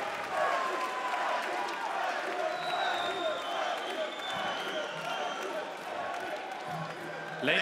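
Arena crowd at an MMA event applauding and cheering for Freddy Kemayo after his technical-knockout win, a continuous roar of clapping and crowd noise throughout, with an announcer speaking over it.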